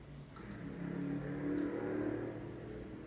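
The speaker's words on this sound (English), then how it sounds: "there is a car outside making one hang of a noise" A car revving its engine outside, heard faintly through a wall as a low mid-pitched drone that swells and eases over a few seconds, distant and muffled.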